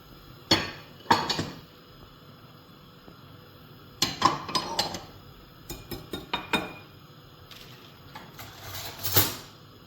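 Utensils clinking against a dish while chicken is mixed in at home: scattered sharp metallic taps and scrapes in short clusters, fairly close, over a quiet kitchen background.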